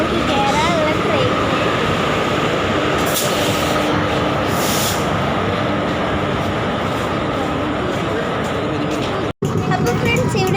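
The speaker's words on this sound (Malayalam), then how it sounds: "അപ്പോൾ ഫ്രണ്ട്സ് നമ്മുടെ ട്രെയിൻ വരുന്നുണ്ട് കേട്ടോ" A train pulls into a railway station with a loud, continuous rumble and rattle of wagons. Crowd babble and voices run throughout, with a brief sharp dropout near the end.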